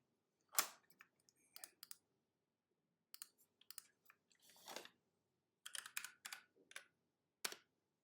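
Keystrokes on a keyboard under test during a DDmicro build, sounding as close, sharp clicks in short irregular bursts separated by brief pauses, with no voices.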